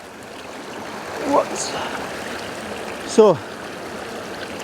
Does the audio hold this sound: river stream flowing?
yes